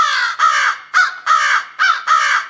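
Crow caws played as a sound effect during a school annual day stage play, a run of six loud, harsh calls in quick succession with short gaps, close and clear with no talk.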